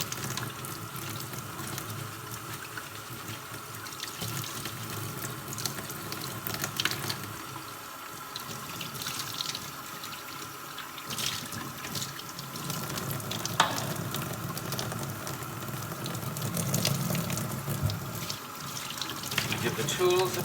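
Dyson DC33 vacuum cleaner tools rinsed under running water in a sink, a steady splashing and trickling wash with clattering of plastic parts, close and continuous throughout.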